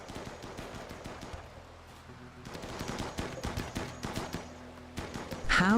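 Rapid gunfire from the Rimworld video game, dense volleys of shots crackling together in a busy firefight, with bursts building louder toward the end and no talking.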